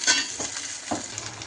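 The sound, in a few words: sautéing tomatoes and curry leaves in a pan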